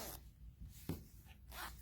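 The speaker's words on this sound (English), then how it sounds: "Make sure that your zipper works" A zipper on a small handmade wristlet bag is pulled quickly along its track in a couple of short, quiet zipping strokes, close and alone.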